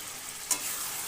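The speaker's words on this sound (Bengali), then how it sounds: "আলুগুলো দিয়ে 5-6 মিনিট মাংসের সাথে ভালো করে কষিয়ে নিলাম।" Raw potato pieces are stirred into chicken in a hot pan, with a soft, steady frying hiss and one brief scrape of a utensil midway through the short span.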